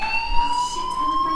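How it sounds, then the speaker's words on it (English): A school fire alarm in Life is Strange rings continuously, a steady shrill electronic tone with high harmonics that holds level and loud throughout, with no speech. "do you hear that fire alarm?"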